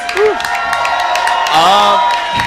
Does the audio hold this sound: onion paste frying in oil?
no